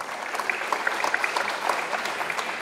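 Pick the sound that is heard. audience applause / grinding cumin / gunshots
audience applause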